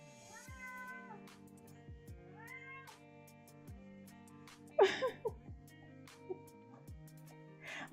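Domestic cat meowing several times with drawn-out, rising calls, close and fairly quiet, with a few sharper sounds and thumps between the meows.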